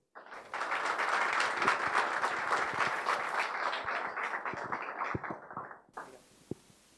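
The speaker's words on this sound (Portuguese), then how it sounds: "pedir uma salva de palmas para ele, Rafaelo Sapia Pedalino" An audience at an event on the collaborative economy claps for a speaker, a full burst of applause that thins to scattered claps and dies away into near silence.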